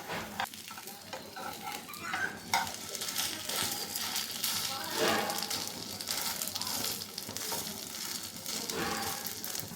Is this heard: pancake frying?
yes